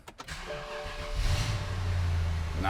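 A BMW E70 X5 V8 cold start: a brief starter crank and catch at the beginning, then the engine settles into a loud, steady, rumbling idle nearby.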